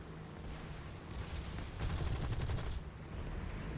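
A British Beaufighter's aircraft guns firing in War Thunder, a dense burst of rapid shots lasting about a second over a steady engine drone, loud and close.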